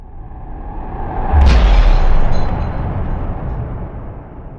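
A single explosion sample for a death metal track: a sharp crack followed by a deep booming rumble that swells and then slowly decays.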